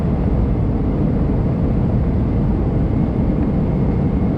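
A United Airbus A320 rolls out at Chicago O'Hare with full thrust reversers, heard from inside as a loud, constant low roar of engine and rushing air, steady and unbroken throughout.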